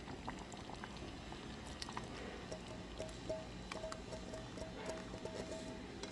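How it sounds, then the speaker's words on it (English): Leftover syrup pours into a sweet rice mixture, giving a soft, steady bubbling and liquid trickle with faint clinks, continuous and close with no talking. "remember I had some of the syrup remaining, so I'm gonna pour it into my sweet rice mixture."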